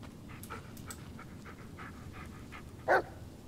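A dog in the horror video game Blair Witch pants in quick, soft, rhythmic breaths, with one sharp louder whine or yip near the end, over a low ambient rumble.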